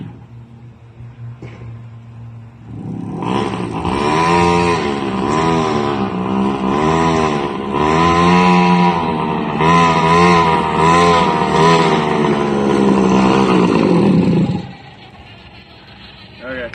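Custom mini bike engine running through a new homemade exhaust, revving loudly with steady rhythmic pulses for about eleven seconds before dropping back toward idle; voices are faintly present.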